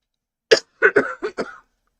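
A person coughs five times in a quick, raspy series, close and clear against silence.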